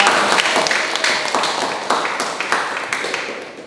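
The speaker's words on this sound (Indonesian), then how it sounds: "Iya, tepuk tangan untuk Fitra." Students in a classroom give a short round of applause for a classmate, close and fairly loud, with distinct individual claps standing out from the group as it gradually tapers off.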